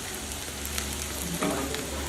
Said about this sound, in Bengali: পেঁয়াজগুলো মিডিয়াম ফ্লেমে ভাজবেন যাতে পেঁয়াজগুলো জ্বলে না যায়।